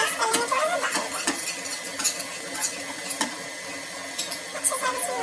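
Orbeez slime is stirred and mashed in a bowl, producing close, wet squelching and clicking scrapes in an irregular rhythm, with no talking.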